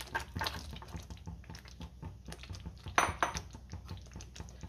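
A spoon scrapes and clinks against a pan while fried cashews and paneer are stirred into thick gravy, irregular soft knocks and wet squelches close up, with one sharper clatter midway.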